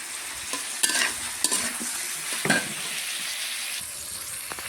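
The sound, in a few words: potatoes and pointed gourd frying in a pan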